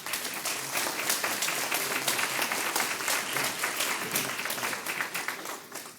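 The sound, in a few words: audience applause for the candidates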